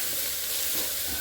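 Chili vegetables frying and sizzling in a pot as they are stirred, a steady close hiss with faint scraping and no talking.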